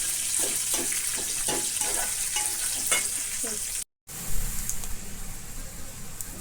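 Lentils and chillies frying in hot oil for a tempering for dondakaya pachadi, a steady close sizzle with scraping stir strokes, then a brief cut and continued frying.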